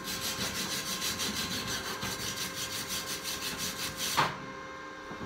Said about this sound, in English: right here I'm just welding the sides down to make sure it holds real good.